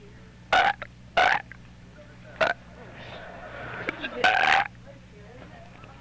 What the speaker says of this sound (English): Make some more burps.